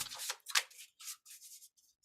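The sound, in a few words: shuffling a deck of cards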